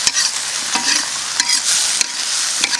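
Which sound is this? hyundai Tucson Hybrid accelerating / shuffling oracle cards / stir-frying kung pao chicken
stir-frying kung pao chicken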